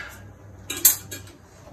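A spoon scoops half a block of room-temperature cream cheese into a bowl, giving a few close, sharp clinks and scrapes against the bowl over a quiet background.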